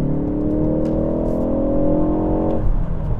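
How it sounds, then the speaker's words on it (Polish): Ford Focus ST Performance Track Pack (2023 facelift) accelerating hard in third gear, the engine and exhaust note rising in a steady strong drone from inside the car before easing off near the end. "i słucham tego silnika i słucham układu wydechowego"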